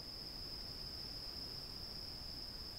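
Bush crickets on the slopes of Mount Etna at night give a steady, unbroken high-pitched trill that holds one pitch throughout, faint and distant over a soft background hiss.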